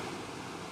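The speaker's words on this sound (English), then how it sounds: "Atlantic Ocean today is quite rough" Rough Atlantic Ocean surf at Bathsheba, Barbados, a steady broadband roar of breaking waves with no distinct individual crashes, continuous and fairly close across the short stretch.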